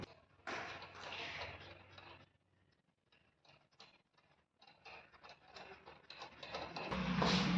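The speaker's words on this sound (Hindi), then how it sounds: "तो फटाफट से खोल लेते हैं इसको 10 mm के रिंग पाने से।" A 10 mm ring spanner loosens the mudguard nuts on a motorcycle during a front shock absorber repair. Faint metallic clicking and rattling comes in uneven bursts, with a thump and louder clatter near the end.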